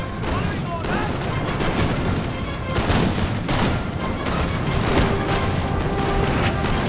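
Cannon fire and battlefield din in Napoleon: Total War, with booms and crashing impacts over a continuous roar of musketry, loud and dense throughout without a clear break.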